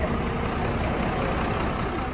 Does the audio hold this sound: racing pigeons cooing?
no